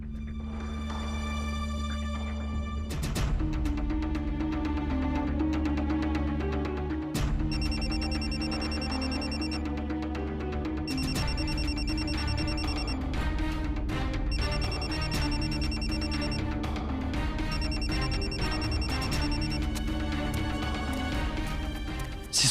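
A mobile phone rings in repeated electronic bursts, a melodic ringtone pattern played over a dense musical score, steady and moderately loud, with no voices.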